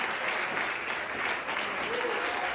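A Portuguese-speaking church congregation applauds, a thick, even wash of many hands clapping at once that holds steady throughout without any voices rising above it.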